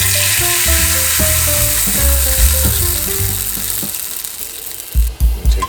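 A piece of rice paper fries in hot oil with loud, steady sizzling and crackling, and the bubbling crackle puffs up in a few bursts toward the end.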